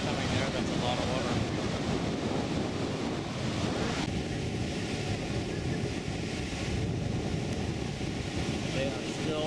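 Dense, continuous roar of heavy rushing water at Niagara Falls' Canadian Falls, broad and unbroken, with wind buffeting the microphone throughout.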